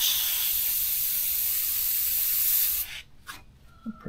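Close, steady hiss of an airbrush or spray gun laying down gunmetal paint on a miniature, running for nearly three seconds before cutting off, followed by faint handling noises.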